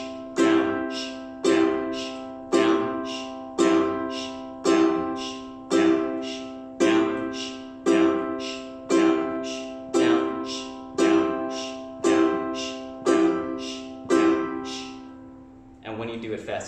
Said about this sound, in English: Strumming pattern number 1, down, sh, down, sh, down, sh, down, sh.